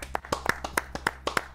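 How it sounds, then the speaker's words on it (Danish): A small group clapping hands together indoors, about nine sharp, slightly uneven claps in quick succession, fairly close and moderately loud with a faint hum underneath. "lad os lige give en klap sammen"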